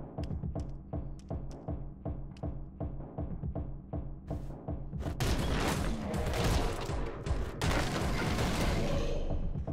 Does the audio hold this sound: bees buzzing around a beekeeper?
no